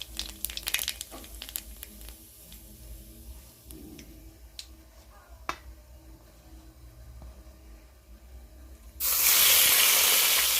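Black cumin seeds hit hot oil left in a wok after frying fish, giving a quiet crackle with scattered sharp pops, followed by a sudden loud, steady hiss of sizzling near the end.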